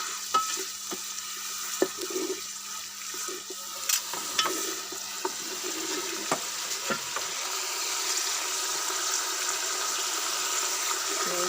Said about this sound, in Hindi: ये फ्राई हो रही है मोंगरे।